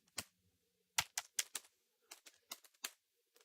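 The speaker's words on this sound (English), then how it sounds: "I'm like kind of pounding on the keyboard." Keystrokes from fingers pounding on a computer keyboard close to the microphone, landing as sharp irregular clicks in quick bursts separated by short gaps, with no talking.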